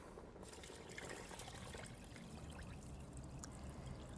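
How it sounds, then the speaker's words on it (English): Three quarts of water pour steadily into a 6-quart Dutch oven with a continuous splashing trickle, close and moderately loud, and no voices over it. "To that, I'm going to add 3 quarts of water."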